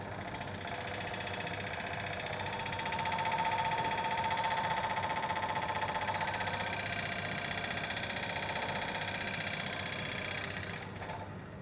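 Electric motor spun up to its resonant speed, a steady mechanical whir with a buzzing rattle of vibration holding constant for several seconds before easing off at the end, moderately quiet and with no speech.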